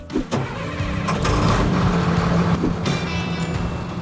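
A MaxxPro armored vehicle's engine runs steadily up close while its air system pumps, with a few sharp clunks near the start and a short hiss of air midway.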